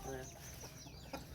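Chickens cluck briefly and close by, short fowl calls over a busy background with faint voices.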